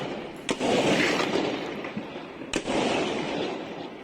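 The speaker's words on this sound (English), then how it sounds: "I don't know what those explosions are." Explosions like fireworks or firecrackers, two sharp cracks about two seconds apart over a continuous loud rumbling roar, heard from a distance with no speech.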